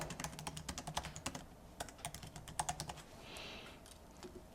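A quiz title is typed on a computer keyboard in a quiz-maker workspace: quick, quiet bursts of close keystrokes with short pauses between words, and no talking.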